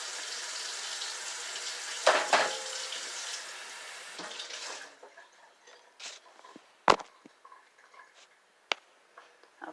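Food is rinsed under a running kitchen tap, a steady close rush of water for about four seconds before it shuts off, followed by scattered drips, knocks and small handling clicks.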